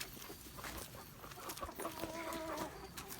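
Hens cluck in short, uneven bursts as they are shepherded to roost for the night, a soft chorus of chicken calls close by over a steady background hiss, with a few sharper cackles toward the end.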